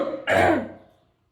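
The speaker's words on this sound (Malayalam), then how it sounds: "എന്താ അറിയില്ല ഭയങ്കര ചുമ" A single harsh cough bursts out close by, then trails off into quiet within about a second.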